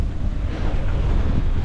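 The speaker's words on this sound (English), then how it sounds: "You guys, it's rough, it's windy." Strong wind buffets the microphone aboard a small fishing boat on a rough sea. Constant low roaring gusts mix with wave wash, loud and close, with no speech.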